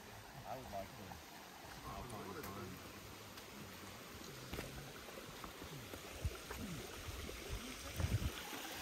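A small waterfall on a mountain hiking trail near Mount Baker, with a continuous soft rush and trickle of flowing water, fairly faint and steady, plus a few louder splashes near the end.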